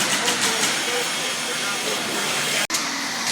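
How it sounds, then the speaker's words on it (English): Broad, steady hiss and roar of an RV factory in full production at the Heartland North Country plant, a dense, loud wash of machinery and air noise with faint talk mixed in and a brief dropout near the end. "I apologize for the background noise, but it's factory's in full production right now."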